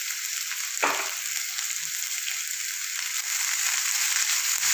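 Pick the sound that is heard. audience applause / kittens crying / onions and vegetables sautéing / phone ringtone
onions and vegetables sautéing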